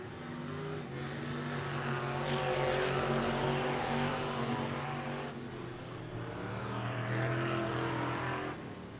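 Factory stock race cars roar around Tulsa Speedway, engines droning steadily with passes swelling and fading at a distance, fairly faint overall.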